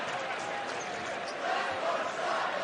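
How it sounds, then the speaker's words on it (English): A basketball arena crowd at a Marquette versus Texas college game chants together, a steady roar of many voices rising slightly in the second half, with a commentator's voice over it. "The crowd, knowing the ties that bind, is chanting "Let's go Shaka" for a moment here."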